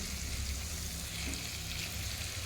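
Chicken roast frying in a pan, a steady soft sizzle and hiss that stays even throughout, close but fairly quiet, with no voices.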